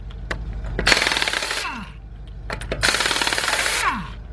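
Craftsman 16882 impact wrench running in reverse to remove brake bolts on a 2010 Dodge Ram 1500 truck, giving two loud, rapid hammering bursts of about a second each, with the motor winding down after each.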